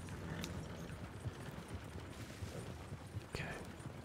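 Horse hooves clip-clop steadily in Red Dead Redemption 2 as the mount follows along, a soft continuous trot under low game ambience with a couple of sharper knocks.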